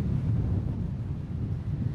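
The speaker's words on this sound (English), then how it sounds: "We're seeing wind gusts at about 35 miles an hour here on Anna Maria Island." Strong gusty wind of about 35 mph on the beach at Anna Maria Island during stormy, flooded conditions, a continuous low roar buffeting the microphone for the whole stretch with no talking.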